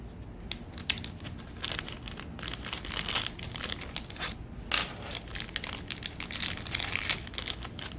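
Small plastic bags holding upgrade kit parts for a Studio Series 86-07 Slug figure are opened up close, with continuous crinkling and crumpling rustles and a few sharper crackles.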